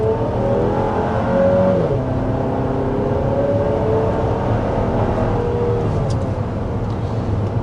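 A 2024 GMC Acadia Denali SUV's engine pulls under acceleration with a steady, moderately loud drone that climbs in pitch and shifts through gears, heard from inside with no talking.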